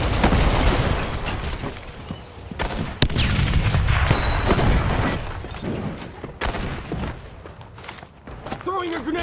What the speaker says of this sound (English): Throwing a grenade!